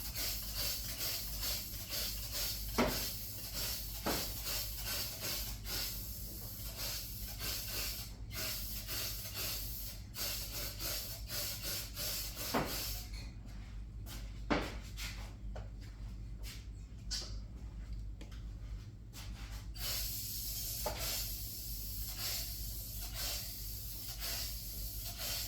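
A light dusting coat is sprayed during a bed build, a continuous close airy hiss that runs on with little change, briefly thinning partway through before resuming, and no talking.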